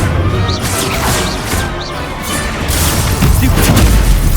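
Incendio fire spell cast in Hogwarts Legacy amid battle, loud crashing, whooshing bursts layered in continuous combat noise, with a swell of impacts toward the end.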